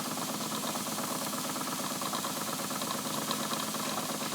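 A Wilesco D20 toy steam engine runs steadily, fairly fast and counterclockwise, with a dense, even mechanical chatter and rattle at constant loudness, close up and with no voices.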